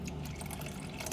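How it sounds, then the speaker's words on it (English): Water pours into a pot of village-style salmon fish curry, a brief close splashing, gurgling fill with no talk. "So you might want to add in a little bit more water."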